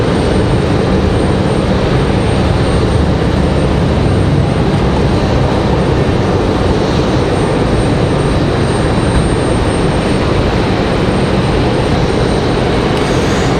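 An American Airlines jet arrives at Raleigh-Durham on a flight from Philadelphia, giving a loud, unbroken engine roar that holds steady throughout with no voices.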